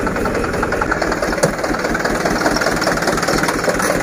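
A motor engine runs steadily nearby with a continuous rough rumble and small surges, as if being revved, at a roadside location where help has arrived; no talking.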